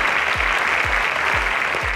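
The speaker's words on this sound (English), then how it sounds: "Please give him a round of applause." Continuous applause from an audience, dense and steady clapping at a constant loud level, with soft low thumps repeating underneath.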